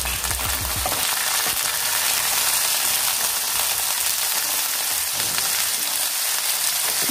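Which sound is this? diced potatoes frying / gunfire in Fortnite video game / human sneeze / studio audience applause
diced potatoes frying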